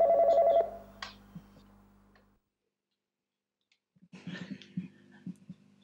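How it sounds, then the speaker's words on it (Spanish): A telephone at a TV station rings in one short, close burst and then falls silent, with faint clicks and handling noises following after a quiet gap. "ya mismo estaría sonando el teléfono"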